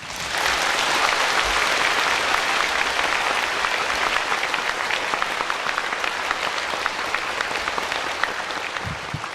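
An audience claps after a talk, a dense, steady wash of applause that holds at full strength for the whole stretch with no speech over it.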